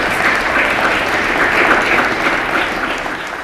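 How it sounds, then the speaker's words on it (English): A large audience at the Mayor's 2016 State of the District Address gives a full, loud round of applause, a dense even wash of clapping that holds steady and eases slightly at the end. "a big round of applause"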